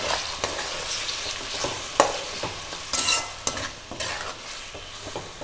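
Tomato paste stirred into potatoes and brinjal frying in oil for a gravy, a loud close sizzle with repeated spoon scrapes and knocks against the pan, no talk.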